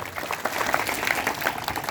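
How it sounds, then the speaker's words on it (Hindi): An audience at a school Lohri festival gathering claps to welcome an honoured inspector, a brief burst of brisk, fairly close applause with a faint voice mixed in. "हम लोग जोरदार तालियों से स्वागत करेंगे।"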